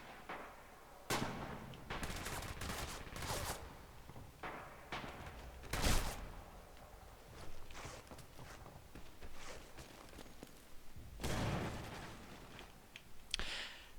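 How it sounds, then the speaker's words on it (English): A grenade explodes amid gunfire in a competitive online shooter match: scattered cracks and bursts, one heavier bang near the middle and another cluster toward the end, all fairly faint. "That was a nasty grenade."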